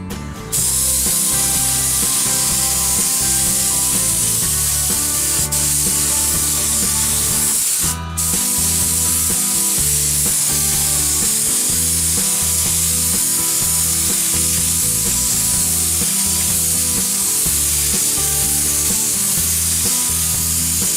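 Spray gun applying coats of paint to a blended car body repair, a steady continuous hiss with a brief pause partway through, close and loud, no talking.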